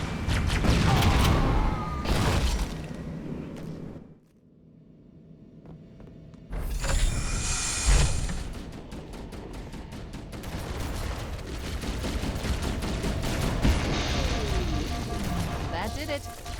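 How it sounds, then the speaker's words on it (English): A pulse generator in Halo: Combat Evolved Remastered overloads and explodes, bursting in loud booming blasts and crackling gunfire-like rumbles with a brief lull in the middle, then a heavy roar and mechanical clatter that trails on. "That did it. The pulse generator overloaded."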